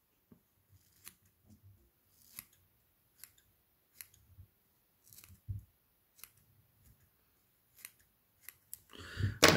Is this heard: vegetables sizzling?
no